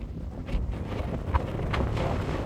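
Gusty wind on an outdoor walk through an open area, a close rumbling buffet of wind noise against the microphone with a few brief louder gusts.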